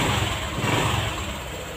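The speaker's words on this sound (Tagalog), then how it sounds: "i-rev natin, i-rev." A Honda Click v.2 scooter engine runs close by, a steady buzzing drone that swells slightly as the throttle is blipped, with no voices over it.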